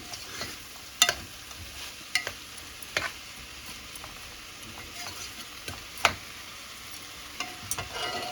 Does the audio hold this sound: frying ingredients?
yes